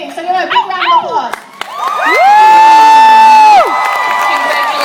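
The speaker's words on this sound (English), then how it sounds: "So give him a big round of applause." At a cosplay craftsmanship competition, a convention crowd bursts into loud cheering, high-pitched shouts and whoops that swell into a sustained roar, with applause mixed in beneath and voices calling out.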